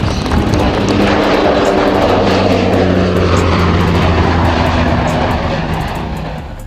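A CN-235 turboprop aircraft flying with a steady, loud propeller and engine drone that holds throughout and eases slightly at the end.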